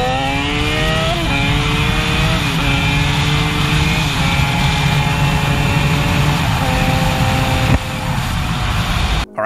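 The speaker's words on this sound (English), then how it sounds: "Let's get a sound check of that superbike engine" A Yamaha FZ1 naked superbike engine, loud and close, held at a high rev with several rising pulls and brief dips. It ends with a sharp cut near the finish.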